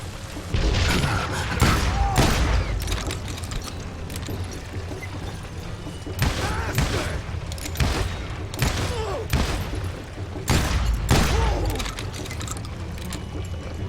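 Gunshots in Call of Juarez: Gunslinger, a Western shooter, with repeated heavy booming shots and thuds spaced across a noisy background, some sounding close and punchy.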